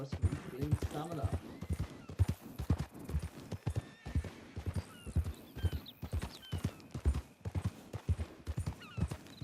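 Horse hooves in Red Dead Redemption 2 Online clip-clop in a steady trotting rhythm, close and fairly clear, with a brief whinny near the start and a voice talking over the hoofbeats.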